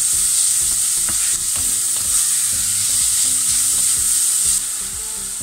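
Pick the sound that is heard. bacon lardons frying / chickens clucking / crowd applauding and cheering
bacon lardons frying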